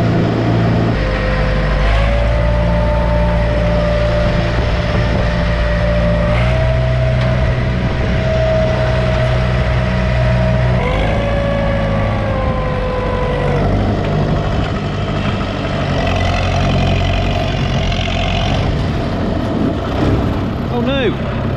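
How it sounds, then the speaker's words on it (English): An old scraper tractor idling on a farm, a loud, close, continuous engine drone that holds steady throughout with slight shifts in pitch. "I'm just back now with the old scraper tractor"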